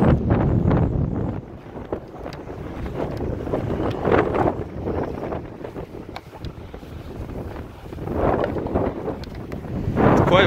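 Strong gusting wind buffets the microphone in heavy, uneven roars, with faint lapping water underneath, on the shore of Lake Kleifarvatn, Iceland.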